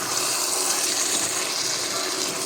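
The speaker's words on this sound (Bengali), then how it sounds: "আমি এখন একটু গরম জল দিয়ে দেব।" Hot water pours in a steady, close gush onto braised duck meat in a pot, an unbroken rushing splash with no voices.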